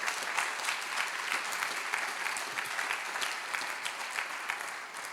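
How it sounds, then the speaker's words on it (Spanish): A church congregation applauds steadily. The dense, even clapping is fairly faint and sounds slightly distant, and it holds at a constant level for several seconds. "Denle aplauso al Señor"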